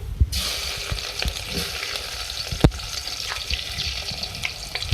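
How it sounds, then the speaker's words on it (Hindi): Onions drop into hot oil for a bhindi and turai sabzi, bursting into a loud, steady sizzle that continues close up with occasional spoon scrapes and one sharp clack. "हमने ऑयल में से पहले प्याज ऐड करना है"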